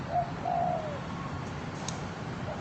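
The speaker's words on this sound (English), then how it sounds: "What you're hearing is from that little bird right there." A small bird coos softly close by, two low rounded calls near the start over a quiet, steady outdoor background.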